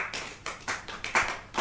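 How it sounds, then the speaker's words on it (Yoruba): An audience at a gathering claps for the writer of a song: a few scattered, fairly faint handclaps spaced unevenly over a moment, with no voices over them. "ló kọ orin náà fún wa ẹ pàtẹ́wọ́ fẹ́ni náà o"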